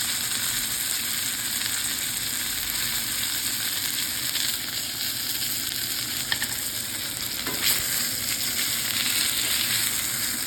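Steak searing in a hot pan, a continuous loud sizzle with crackling pops and a few sharper spits, no talking.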